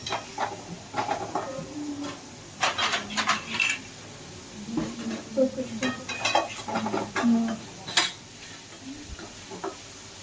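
A hot cooking pot is handled with tongs while vaghareli khichdi is made, bringing light metallic clinks, scrapes and clatters at close range, scattered irregularly with soft kitchen background noise.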